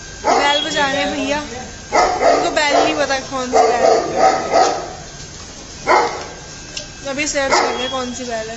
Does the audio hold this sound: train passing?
no